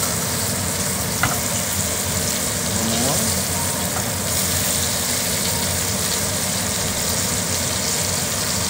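A thick ribeye steak sears in a pan while being basted, producing a loud, dense, unbroken sizzle close up, with faint spoon and pan movements under the frying.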